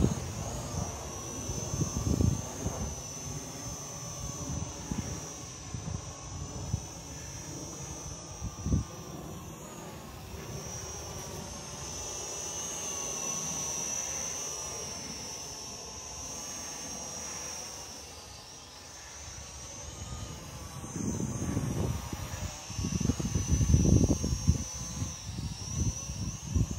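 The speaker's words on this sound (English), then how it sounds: "The Visuo foldaway quadcopter" A Visuo XS809W foldaway quadcopter drone in flight gives off a steady, high-pitched rotor whine that holds throughout, with low rumbling gusts of wind or handling noise rising and falling around it.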